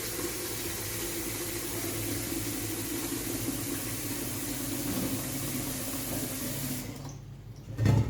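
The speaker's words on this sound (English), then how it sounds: "I'm washing my pot, adding some water, and I'm cleaning up at the same time." Tap water runs steadily into a cooking pot at a kitchen sink during pot washing, a continuous close splashing rush that stops shortly before the end.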